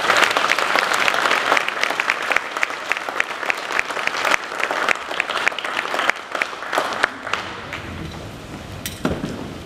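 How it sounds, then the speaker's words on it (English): Audience at a Year 12 graduation night giving a sustained round of applause, dense and lively clapping that thins out and fades toward the end. "let's give them one more round of applause"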